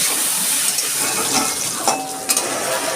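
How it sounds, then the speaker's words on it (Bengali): Sliced pointed gourd frying slowly in a pan with a little salt and turmeric, giving a steady, close sizzle with occasional light stirring clinks, no talk. "এইভাবে পটলগুলো একটু লাল লাল করে আমি আস্তে আস্তে ভেজে নিচ্ছি"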